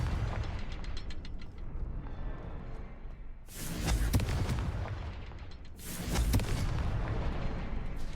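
Two Confringo fire spell explosions in Hogwarts Legacy, each a sudden heavy blast with a bright crackling burst, a few seconds apart over a low rumbling game ambience.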